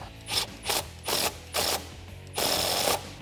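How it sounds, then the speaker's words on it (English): A hand ratchet with a 10mm socket tightens a clamp on a cold air intake for a 2019-2020 RAM 1500 5.7L, giving five quick bursts of clicking in an irregular rhythm, close up. "to make sure that this stays in place, we can tighten this up with a 10mm socket"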